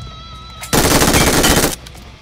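A weapon in the video game PUBG Mobile fires one loud, sustained automatic burst lasting about a second, set against quieter game ambience, with no voices.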